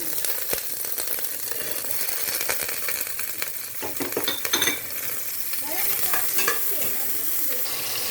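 Garlic and green chili frying in hot olive oil, a steady close sizzle and crackle running throughout with stirring scrapes and utensil clinks over it.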